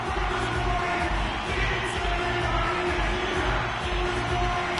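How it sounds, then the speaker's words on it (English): Dense arena crowd noise with cheering and whoops rolls on steadily throughout, loud and continuous during a tied game late in the middle period, with no distinct voices standing out. "You can feel the energy in this crowd."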